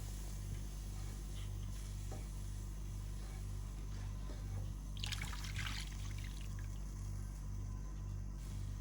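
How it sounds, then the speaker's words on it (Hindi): Milk poured into fried maida flour in a pan for a chicken lasagna white sauce: a soft, steady trickle over a low hum, swelling into a brief splashy gush midway. "अब इस स्टेज में हमने डाल देना है इसमें दूध।"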